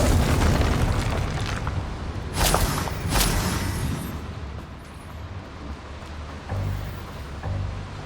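Confringo explosive spell blasts in the Hogwarts Legacy video game during a goblin battle: a loud, continuous rumbling roar with sharper booming bursts near the middle and end, and no talking.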